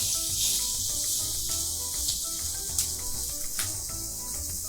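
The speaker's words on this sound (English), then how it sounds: "So I'm just doing a pan sear technique on this" Steak sears in hot oil in a pan, giving a constant bright sizzle and hiss with a few sharper pops and spits, close up and free of talk.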